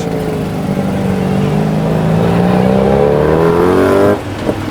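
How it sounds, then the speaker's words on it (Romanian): Street traffic in a less touristy part of Chiang Mai, Thailand: a car or motorbike engine revs loudly and close, its pitch climbing steadily for about four seconds before cutting off abruptly, with no talking. "E trafic aici"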